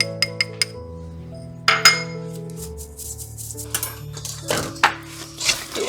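Baking soda, salt and cinnamon whisked together in a bowl for chai snickerdoodle cookies, heard as a series of bright metallic clinks and taps of a whisk against the bowl, close and irregular, with no talking.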